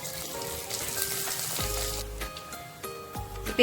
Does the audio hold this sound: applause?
no